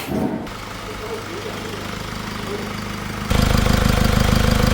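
A used diesel car engine idles during engine flushing with a low, even chugging rumble that grows louder and steadier near the end, running on alone without talk.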